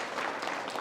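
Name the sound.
audience applause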